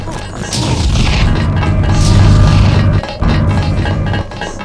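Plasma weapon fire and explosions in the video game Deus Ex, set in the Versalife canals, form a loud, continuous rumble with crashing, clinking impacts and a brief drop near the end.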